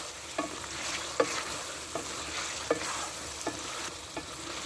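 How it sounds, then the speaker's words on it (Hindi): Mutton being stirred and browned in ghee for aloo gosht, a steady hiss of frying with soft, regular scraping strokes of the spoon roughly every second, close and moderately loud, no voices. "अभी मैंने थोड़ा सा और भूनना है। अब इसका घी ऑयल निकल रहा है बाहर"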